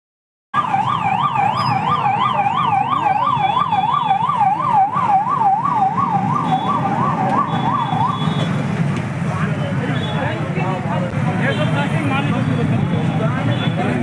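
Fire engine sirens wail loud and close as the trucks arrive at a showroom fire behind a mall. The siren tones rise and fall steadily, then fade out into traffic noise and crowd hubbub.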